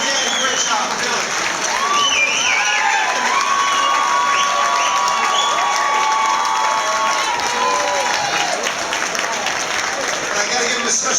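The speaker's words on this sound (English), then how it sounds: "Give Danny a big round of applause" Dinner-and-roast audience applauding and cheering for Dan Savino, a steady, dense crowd roar with clapping and whoops sustained throughout, voices mixed into the noise.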